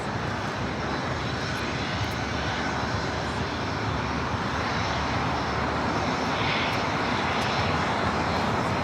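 Heavy jet roar from a DHL Boeing 777 freighter touching down on runway 25 left at LAX, continuous and loud, building gently toward the end with no voices over it.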